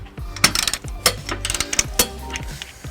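A ratchet with a 19mm socket tightens a trailer hitch stud on a 1999 Chrysler Town and Country, giving close, loud, uneven clicking strokes with metallic clunks between pulls.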